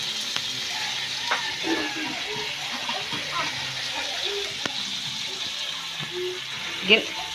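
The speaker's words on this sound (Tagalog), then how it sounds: "ginisa ni Robely ng sardinas" Sardines being sautéed in a pan, a steady sizzle and crackle with occasional stirring clinks, as voices talk over the cooking.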